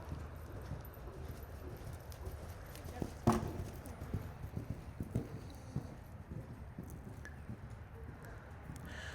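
Horse cantering over ground poles in an arena, rhythmic hoofbeats at moderate distance with a sharper knock as a pole is met, while a person speaks over the sound.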